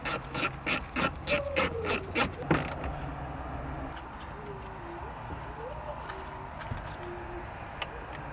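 A ratchet clicks in a quick rhythmic burst of about eight turns on a 10 mm bolt while removing the radio from a Lexus GX460, followed by faint creaks and small handling knocks close by.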